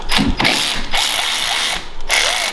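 A ratchet works a bolt out of the CVT on a supercharged 670cc IRS buggy, sounding as several quick, close bursts of metallic clicking separated by short gaps.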